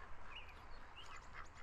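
Ducks in a VRChat bird sanctuary quack in a few faint, scattered nasal calls over a soft, steady background hum, with no talking.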